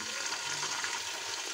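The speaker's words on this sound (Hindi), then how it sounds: "हल्का सा फ्राई करूँगी।" Potatoes fry in ghee with cumin seeds and black pepper, a steady close sizzle with a light, even crackle throughout.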